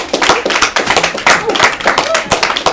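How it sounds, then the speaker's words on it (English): An audience applauds at a poetry slam: loud, close, rapid clapping from a modest crowd, with irregular sharp hand claps and voices mixed through the applause. "Applaud the poem, not the score."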